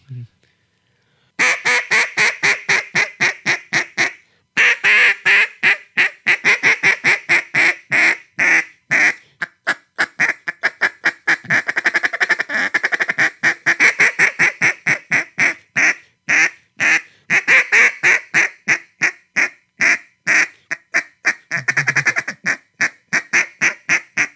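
A champion duck caller blows a duck call imitating a duck's quack, producing a long run of rapid, loud, rhythmic quacks and chatter in close, steady bursts that slow and speed throughout.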